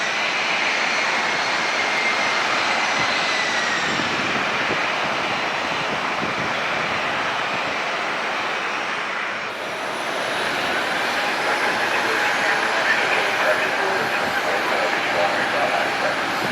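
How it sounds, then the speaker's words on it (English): An Embraer E175 jet airliner departing Cleveland passes overhead with a sustained broadband engine roar that swells and shifts in pitch midway, heard from a distance outdoors with no voices. "on the E175. Looking forward to that. Jazz heading over."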